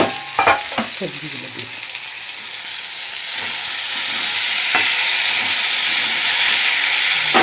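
Vegetables tossed into a hot pan crackle and sizzle loudly, a few sharp clatters and stirring knocks at the start giving way to a steady, close hiss that builds and holds.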